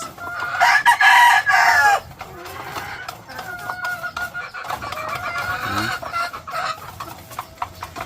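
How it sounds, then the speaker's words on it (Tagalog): Breeding hens cluck and squawk close by, with a louder burst of excited clucking early on, then continued murmuring clucks from several birds. "Ang gandang inahin yan guys."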